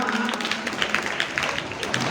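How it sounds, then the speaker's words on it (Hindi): An audience at a school Independence Day celebration gives a brief burst of lively clapping, many hands patting quickly and unevenly for about two seconds with some voices mixed in. "एक बार जोरदार तालियां"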